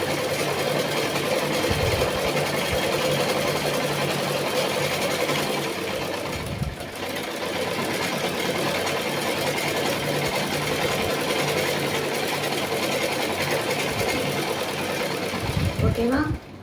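A sewing machine hums and chatters continuously while stitching blouse fabric, close and steady with a brief pause midway, as someone talks over it.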